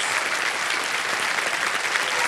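Studio audience applauding on a television quiz show, loud, dense and continuous clapping that stays steady from start to finish.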